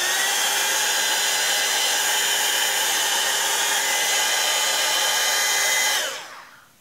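A hair dryer blows steadily on watercolor galaxy cabochons, a loud, constant close-up whirr and rush of air that cuts off near the end and winds down quickly.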